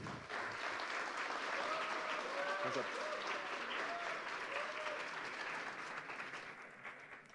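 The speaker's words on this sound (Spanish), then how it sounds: "Un aplauso, por favor, para Elba Sánchez." Audience applause at a tech talk on backend and frontend development, a steady, fairly distant clapping from a crowd that holds evenly for several seconds, then gradually thins and tapers off.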